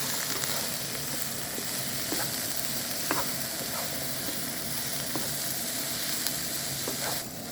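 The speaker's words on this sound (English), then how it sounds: "we are gonna add our green pepper and red pepper. And just mix it." Green and red peppers stir-fry in a pan, a constant close sizzle broken by faint clicks and scrapes of stirring, with no talk.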